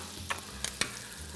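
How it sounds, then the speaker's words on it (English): A fillet of Columbia River king salmon browns in oil and butter in a pan, giving a steady close sizzle broken by three short clinks or scrapes from the pan. "just let that butter start to sizzle"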